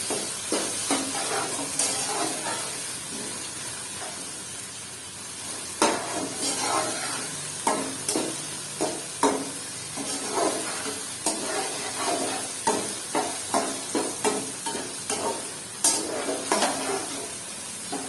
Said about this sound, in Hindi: 2 से 3 मिनट तक हम इसे फ्राई करेंगे ताकि इसकी लेस खत्म हो जाए